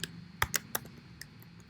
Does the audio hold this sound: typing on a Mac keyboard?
yes